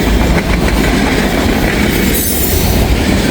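A freight train rolls past on the railroad near Walton and Richwood, Kentucky, a loud, close, continuous rumble of cars and wheels with metallic clatter and faint squeal throughout.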